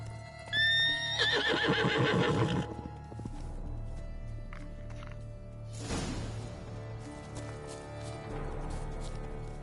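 Roach, Geralt's horse in The Witcher 3: Wild Hunt, gives a loud, close whinny with a rising and falling pitch. Its hooves follow, and a second snort or neigh comes later over steady ambient background.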